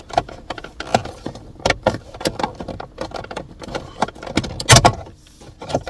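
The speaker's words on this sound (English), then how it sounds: "just pull this plastic trim." Plastic trim being pried off the cup holder of a Mercedes C-Class interior: a close run of small clicks, rattles and scrapes, with a sharper, louder snap near the end.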